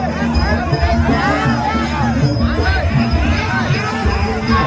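A crowd at a Thai kids' boxing match cheers and shouts in a loud, dense babble, with a ringside announcer speaking over the din throughout.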